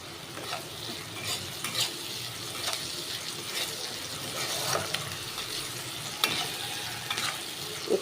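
Onion fries with salt in a pan, a steady moderate sizzle with soft rhythmic stirring taps throughout.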